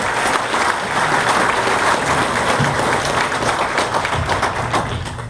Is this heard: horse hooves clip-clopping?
no